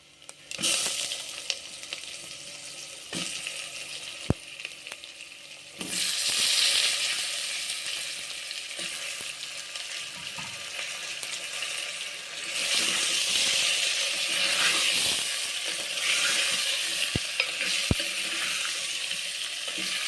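Green mango pieces drop into a hot pan and start sizzling, with steady frying hiss and occasional scrapes of stirring, rising louder partway through and continuing without talk.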